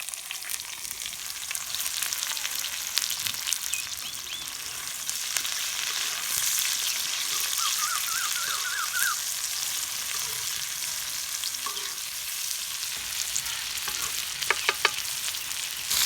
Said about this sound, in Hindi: और प्याज़ों को हल्का सा फ्राई कर लेंगे।